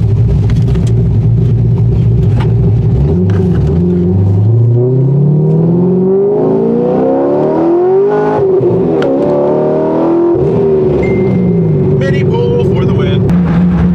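A Corvette engine revs hard through an acceleration pull, its loud, close roar climbing steadily in pitch, dropping briefly at a shift, then climbing again before settling into a steady drone.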